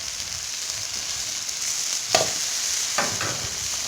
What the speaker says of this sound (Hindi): अब इसमें हम आलू मिक्स करेंगे।